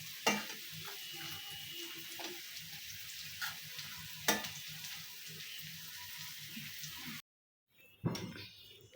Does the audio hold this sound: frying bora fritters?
yes